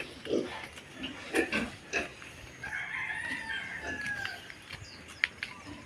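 Pigs on a farm grunt in short bursts among clucking chickens and a crowing rooster, with bird calls in the background and no clear speech.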